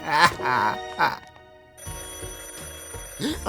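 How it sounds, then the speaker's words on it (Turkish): A telephone rings with bright repeated trills in a cartoon scene from the Turkish-dubbed animated series Helluva Boss, with voices speaking around the ringing. "aç şunu, aç şunu. Başarabilirsin Salus. Aç telefonu."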